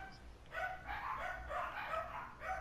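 Dogs barking in the zombie game Dying Light: The Following, a run of yapping barks and whimpers in repeated bursts at moderate distance, filling most of the stretch with no talk over it.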